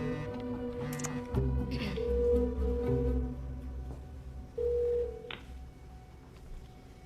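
A phone line plays a series of steady electronic tones and beeps, with a brief higher chirp near the end; no talking.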